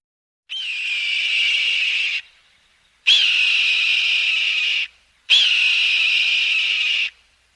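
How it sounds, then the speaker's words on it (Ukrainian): A hawk gives three long, drawn-out screaming calls, each lasting well over a second, loud and close with brief pauses between them. "Яструб."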